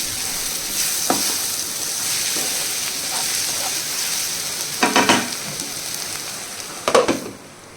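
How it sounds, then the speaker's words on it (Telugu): Sour raw mango curry being mixed after chili powder goes in, a steady sizzle in the pan broken by a few louder scraping stirs near the end. "కారం వేసుకుని మళ్ళీ ఒకసారి కలుపుకుని"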